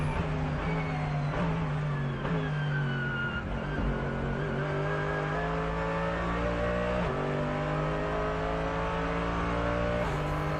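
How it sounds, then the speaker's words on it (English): Onboard race car at the Nürburgring 24 Hours, its engine droning loud and steady throughout, rising through the revs and dropping sharply at gear changes several times, with the chassis thumping as it bottoms out. "listen to the sound of the engine, the driving, hear how the car bottoms out on board"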